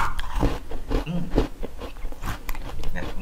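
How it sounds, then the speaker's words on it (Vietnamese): Crunchy frozen strawberries bitten and chewed: a series of sharp crisp crunches at irregular intervals, close up, with faint voices talking softly in the background. "Cắn kìa. Nghe tiếng động luôn, khột khột,"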